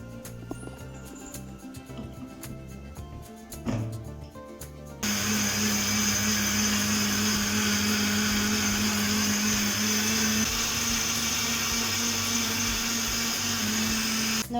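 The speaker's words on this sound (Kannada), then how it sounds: "ಹೊಸ ಮಿಕ್ಸಿಯಲ್ಲಿ ಮಸಾಲೆ" A new electric mixer grinder whirs loudly and steadily as it grinds masala, a constant high-pitched motor drone starting partway through after quieter kitchen clatter and running without a break to the end.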